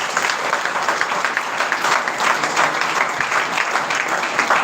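Loud, continuous clapping from a church congregation during a Hindi-language Christian worship service, a dense steady roar of many hands lasting several seconds with no voices on top.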